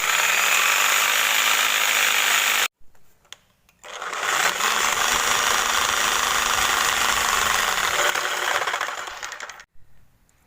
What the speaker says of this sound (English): get the hacksaw out and start cutting out the metal sleeve of the bush